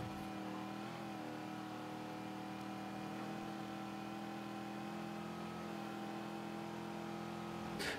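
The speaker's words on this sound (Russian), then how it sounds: "И звук движка прям" A yellow car's engine revs steadily in Mafia 3 Definitive Edition, a continuous mid-pitched drone with layered harmonics running the full length at a constant loud level, with no talk over it.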